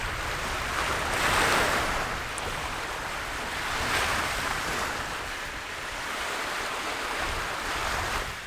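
Waves washing onto the Lake Michigan shore, a broad steady roar of surf that swells and recedes in slow surges, with some wind buffeting and no voices.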